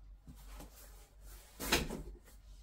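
Drawer handled while white storage boxes are fitted inside during a home tidying session, faint shuffling and small knocks followed by one louder sliding bump partway through, close and quiet with no speech.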